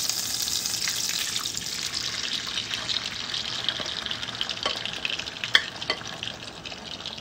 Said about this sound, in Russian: Выливаем омлет.